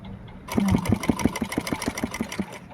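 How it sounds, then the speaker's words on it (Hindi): A sewing machine stitches salwar fabric, its needle hammering in a fast, even run of close mechanical beats with a motor hum underneath, starting abruptly after a short quiet moment. "हमारे ये सलवार का कपड़ा यहाँ पर सिलाई के साथ सिला जाएगा"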